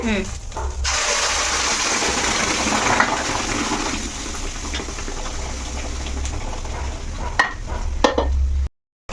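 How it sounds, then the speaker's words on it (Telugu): Vegetable khichdi tipped into a pan of spices fried with asafoetida, then stirred, giving a steady close sizzle with scraping and stirring that runs throughout before cutting off abruptly near the end. "నేను ఈ కిచిడీని మొత్తం ఇందులో వేసేసుకుంటున్నా"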